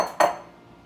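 A bowl for whisking flour and xanthan gum is set down with a single bright ceramic clank that rings briefly and fades, close and clear with no talk.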